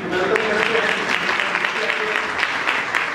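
A church congregation at Sunday worship applauds a couple, steady dense clapping from many hands filling the room for several seconds, with faint voices mixed underneath.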